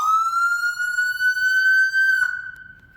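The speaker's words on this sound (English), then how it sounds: "you want to go ahead and do sirens or lights? You want sirens as well?" A loud fire truck siren wails in a long rising tone, then a brief blip near the end before fading, sounding close and echoing inside a fire station.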